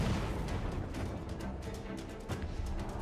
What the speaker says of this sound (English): Use cannon shot to slow her down!